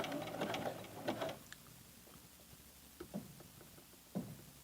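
A sewing machine runs a zigzag stitch at a 3.5 setting to join elastic ends on a sewing table, with a busy mechanical burst at the start, then quieter, intermittent short bursts of stitching and knocks.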